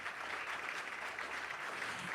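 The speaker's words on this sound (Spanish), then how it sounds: "Un muy fuerte aplauso" Audience applause at an honorary doctorate ceremony at a university, a continuous wash of clapping from a large crowd, heard at moderate distance and fairly soft.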